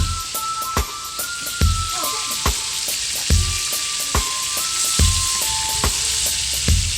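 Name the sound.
shrimp (pasayan) frying in a pan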